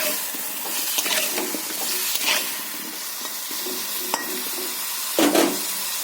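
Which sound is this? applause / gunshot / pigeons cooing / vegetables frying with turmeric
vegetables frying with turmeric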